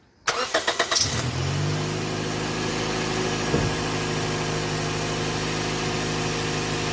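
A 2005 Scion xB engine cranks briefly with a few quick chugs, catches and settles into a steady, even idle that continues close by with no one speaking.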